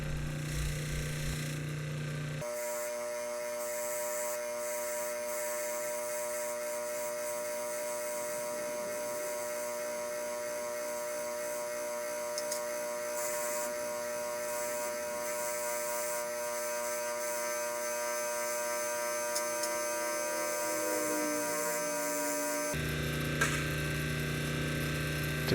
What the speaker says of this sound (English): I'm going to clean up the last parts on the wire wheel.